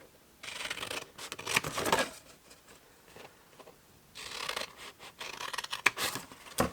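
Scissors snip and slide through a milk carton along its score lines, forming two bursts of close, papery cutting with rasping strokes and a short pause between them.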